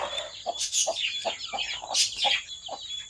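Peruvidai chickens cluck in short repeated bursts, with higher chick peeps and chirps running through, close by and fairly loud.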